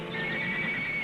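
A Mustang horse gives a sustained, fairly loud neigh lasting about a second, with a steady high whinnying tone and no voices.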